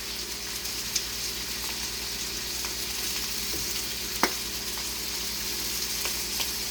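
Meat searing in a PC Deluxe multi cooker, giving a steady, even sizzle that holds close and constant throughout, with a couple of faint taps and no talking.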